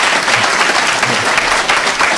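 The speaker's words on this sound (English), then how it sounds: "let's give them another round of applause" Audience applause at a stamp-collecting lecture, a dense, steady wash of many hands clapping at once, loud and close, with no talk over it.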